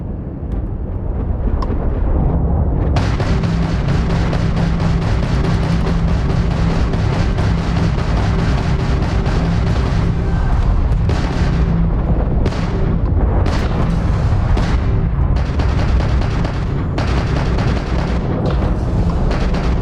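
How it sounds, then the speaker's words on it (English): Explosions and incoming weapons fire in the video game Starfield rumble loudly and continuously, with dense low booms and sharp bursts layered over a sustained drone and a few sudden high crackles. "Incoming fire."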